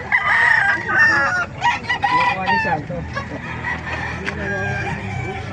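Several roosters crow and cluck close by, their calls overlapping in a busy, noisy farmyard chorus at a fowl market in Bocaue, Bulacan.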